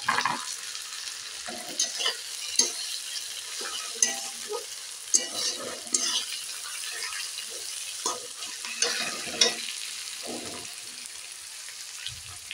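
Cumin and garlic paste frying in a pan for Bengali chicken kosha, a low steady sizzle with frequent scraping and stirring bursts at irregular intervals, close and moderately quiet.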